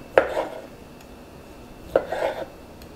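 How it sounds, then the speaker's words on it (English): A knife cuts through sausage on a cutting board, making two separate dull chops with the blade tapping the board, about two seconds apart and close by in a quiet kitchen. "Okay, I got this sausage. We're just gonna start slicing up that."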